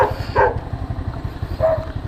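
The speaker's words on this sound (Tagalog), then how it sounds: "Ingay ng aso." A dog barks twice, once early and once near the end, over a steady low engine rumble close by.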